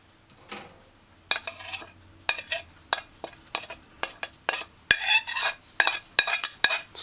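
Coconut milk made from powder is stirred in a saucepan for a vegan asparagus coconut stew, giving a close series of irregular clinks and scrapes of a utensil against the pan, with quiet gaps between.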